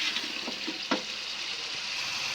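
Mutton with softened tomatoes, nearly tender, is sautéed in a pan as a steady, moderate sizzle, with a few light spoon knocks and scrapes near the start.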